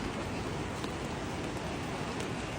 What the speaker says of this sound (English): It is just pouring down rain. See, I'm under an umbrella.